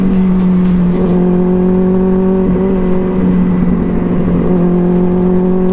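A motorbike running steadily on a city road, its engine drone loud and close with a constant hum, plus rushing wind and traffic noise around it.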